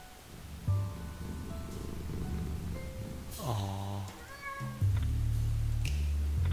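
A cat in the video game Lone Survivor lets out several drawn-out, tonal meows, one rising in pitch partway through, over a low ambient hum and a heavier rumbling drone near the end.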